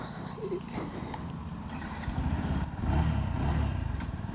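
Yamaha FZ Rave 150 motorcycle engine at the start of a first ride gives a low, steady rumble that grows louder over the last couple of seconds, with no talk.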